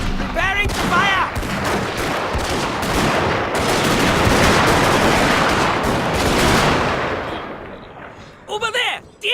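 Musket volley fire in the samurai-era strategy game Total War: Shogun 2, a sustained roaring fusillade of many overlapping gunshots lasting most of the clip, loud and dense, with shouted voices just before and after.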